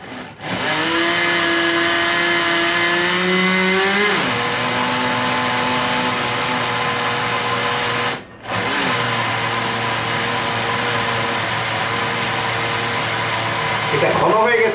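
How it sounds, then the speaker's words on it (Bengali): A blender blends thick eggless mayonnaise, with a loud steady motor whine whose pitch shifts and strains. It is briefly interrupted around the middle, then runs on strongly. "আবার ব্লেন্ড করে নিই।"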